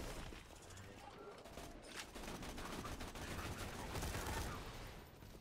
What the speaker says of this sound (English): I like the burst fire.